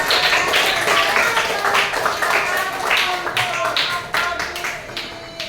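A classroom of students claps for a group that has just finished presenting, a steady round of hand clapping lasting several seconds with a voice speaking over it.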